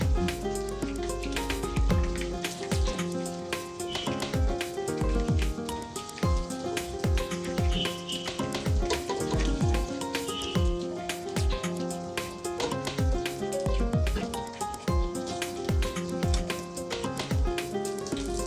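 Pieces of tuna fry in hot oil with a steady, crackling sizzle that lasts throughout, partly under background music.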